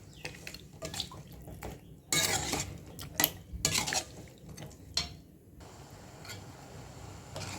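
Metal utensil scraping and clinking against a pot of Chettinad chicken gravy, irregular bursts of stirring with some splashy wet sounds, fairly close, no talking.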